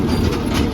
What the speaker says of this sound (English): As the tram takes us up to the parking lot here,